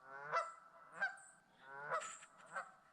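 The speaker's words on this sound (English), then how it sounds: "4 Canada geese this morning, making a ruckus" Four Canada geese honk in the weeds one cold morning, loud close calls arriving in about four bursts with short gaps between them.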